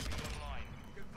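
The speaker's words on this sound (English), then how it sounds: "I got a mortar strike" Mortar strike explosions in Call of Duty Modern Warfare 2 erupt as a brief burst of loud, rumbling blasts with crackling debris, under a player's voice talking over the game.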